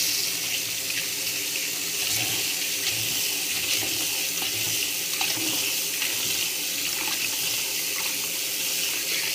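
Tap water runs steadily over machine-made flattened rice (chira) being washed, a close, continuous splashing hiss with small irregular sloshes and no talking.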